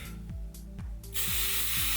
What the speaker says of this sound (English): spray everything down to make sure it sticks